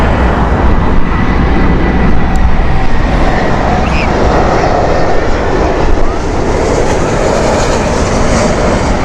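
A VistaJet Malta flight from Budapest landing at Heathrow in heavy winds produces a loud, continuous roar of engines and rushing air that holds steady for several seconds, with no voices.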